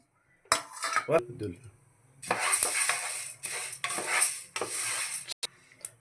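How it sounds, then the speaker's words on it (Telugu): Sorghum grains roasting in a pan, heard as bursts of rattling, metallic scraping stirs with clinks between them and little sizzle. "జొన్నలు కొంచెం వేయించుకుందామండి జొన్నలు వేయించుకొని చక్కగా కలిపేసుకుందాము"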